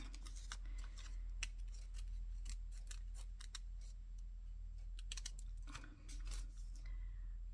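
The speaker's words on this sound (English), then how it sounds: "Do I want to cut a little gap out between their faces?" Scissors snip through paper while cutting out a black-and-white photo of a couple's faces for a collage, giving a steady run of close, crisp snips and clicks over low background hum, with a brief pause near the end.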